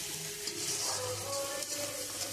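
Masala for a katla fish kalia sizzling in oil as water goes into the pan, a short, steady, close frying hiss with no voices.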